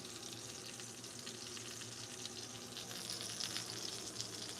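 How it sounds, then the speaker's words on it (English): Smoked holiday ham searing in a hot pan, a soft, continuous sizzle at low volume that swells slightly near the end. "Now I'm just gonna sear it all up."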